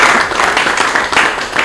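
Audience applause at a Lubumbashi performance, dense sustained clapping filling the whole moment, fairly loud and steady with no voices over it.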